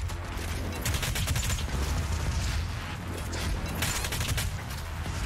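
Rapid video-game gunfire from enemies shooting at the player in DOOM Eternal, a dense continuous barrage of shots and bursts, loud and close, with mechanical clatter underneath and no talking.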